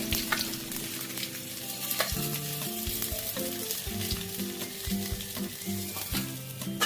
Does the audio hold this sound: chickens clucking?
no